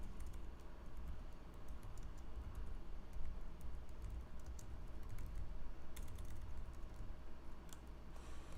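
Dense, steady typing on a computer keyboard, with fast overlapping keystrokes running throughout at a moderate, close level and no talk.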